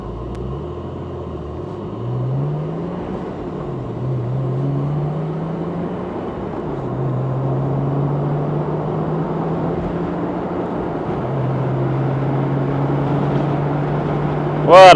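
A car engine revs while driving through a back alley, its pitch climbing and settling repeatedly as the car pulls away, with a continuous low rumble underneath.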